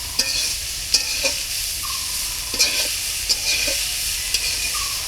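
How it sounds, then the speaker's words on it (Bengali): Ingredients being fried together in a pan for a traditional village dish, a loud steady sizzle broken by repeated scraping stirs of a spatula. "সব একসাথে ভেজে নেওয়া হবে"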